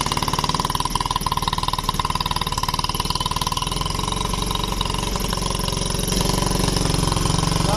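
A motorcycle engine idles steadily while being warmed up on the street, a close, loud, rhythmic putter that holds even throughout and grows slightly fuller near the end.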